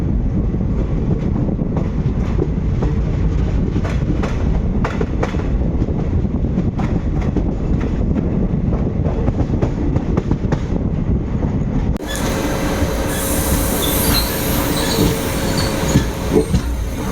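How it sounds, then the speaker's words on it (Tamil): A train clatters and rumbles at a steady pace as it runs into its final stop, a continuous close rolling noise with wheel squeal, shifting to a brighter hiss toward the end. "நம்ம ட்ரெயினோட கடைசி ஸ்டாப்பான காலாக்குட்டம் வந்து ரீச் பண்ணிட்டோங்க"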